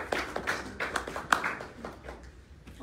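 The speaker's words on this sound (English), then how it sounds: "Please have a round of applause for them." Guests at a Washington press briefing get brief, scattered applause, a handful of uneven claps that taper off within a few seconds, fairly close.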